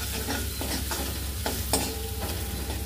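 Black peas being stir-fried with turmeric and chilli masala, a steady low sizzle with soft scraping stirs breaking through at intervals, close and continuous with no talking.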